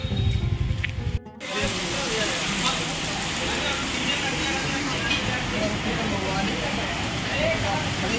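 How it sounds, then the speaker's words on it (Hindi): Heavy, unseasonal rain pours down outdoors in a steady broadband hiss after a brief dropout at the start, continuing loud and unbroken. "क्योंकि बारिश तेज होने लगी।"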